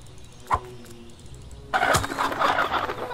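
A chicken in the video game Fables: The Lost Chapter lets out a couple of brief clucks over a quiet game ambience, followed by louder in-game rustling and bustle.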